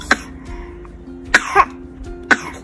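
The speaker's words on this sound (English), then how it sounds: "Did your cough wake you up?" A 5-month-old baby with a runny nose coughs three separate times, each a short sharp burst with a throat-clearing quality. The coughs are close and fairly loud over a quiet room hum.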